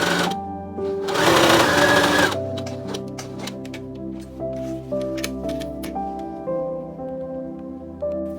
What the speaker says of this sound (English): Sew from the notch to the dart point,